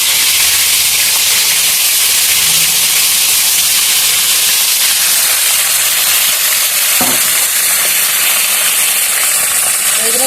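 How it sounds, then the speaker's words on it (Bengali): Vegetables for Bengali shukto fry in hot oil with a loud, continuous sizzle and steamy hiss, occasionally stirred, steady and close throughout. "এগুলো ভেজে নিয়ে আসি।"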